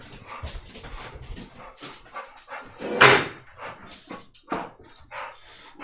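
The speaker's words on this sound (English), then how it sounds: "Thought the dogs were fighting." Dogs scuffle indoors in close, uneven bursts of growling and snarling, with one sharp louder yelp or bark midway and a thump like a door among the scrabbling.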